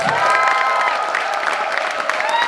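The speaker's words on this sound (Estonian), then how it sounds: "See on Angela Murumaa, tehke palun üks korralik aplaus." Audience applause at a live stage event with dance performers, dense and steady clapping with cheering voices mixed in, sustained throughout at close range.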